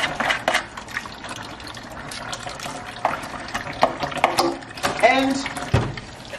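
Dishwashing soap is stirred into a mixture, giving irregular sloshes, clinks and scraping stirs of liquid against a container, with soft ambient noise between strokes.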